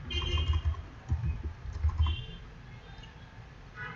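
Fingers typing on a computer keyboard, a close, steady patter of key clicks in short bursts with brief pauses, no voices.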